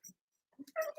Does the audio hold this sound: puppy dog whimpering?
yes